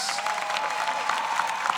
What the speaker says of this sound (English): Round of applause to all of them